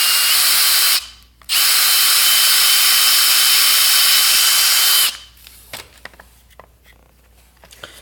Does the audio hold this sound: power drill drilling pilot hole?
yes